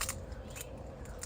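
Small unripe peaches are snipped off a potted peach tree with a few quiet, crisp cuts of pruning shears against faint background hiss.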